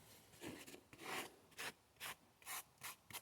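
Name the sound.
metal file scraping fine shavings for fire starting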